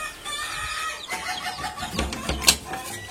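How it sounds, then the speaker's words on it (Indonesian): An ayam ketawa (laughing chicken) calling in a coop, a faint drawn-out crow that breaks into rapid cackling bursts, with a louder sharp note near the end over quiet background clucking. "ayam ketawa saya yang akan menghiasi kandang-kandang ayam ketawa melabu berikutnya"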